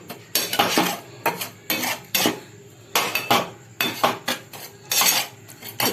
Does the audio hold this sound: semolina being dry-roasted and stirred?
yes